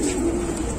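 A caged pigeon in a bird shop gives a short, soft coo against low background noise.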